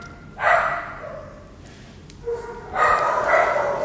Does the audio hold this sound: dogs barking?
yes